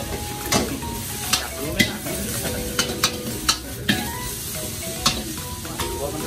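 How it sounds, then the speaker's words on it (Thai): Two woks stir-fry at once at a Thai street food stall, with sizzling, hot oil and repeated sharp metallic scrapes and clanks of spatula on wok, loud and close. "ผัดสองกระทะยกแขนพร้อมกันเนี่ยยกกระทะลอย"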